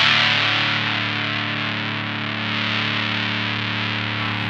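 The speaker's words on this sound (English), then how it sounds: "I'm basically just going to push this up to the point where the gain kind of jumps up in level." An electric guitar plays through a RonSound '75 Hairpie Classic pedal with the gain raised, producing a sustained, thick distorted chord that rings steadily and slowly decays, close and alone.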